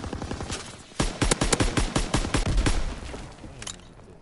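Rapid bursts of automatic gunfire and rifle shots from Call of Duty WW2, a dense volley of loud cracks over about two seconds, with sparser shots before and after against a low battle rumble.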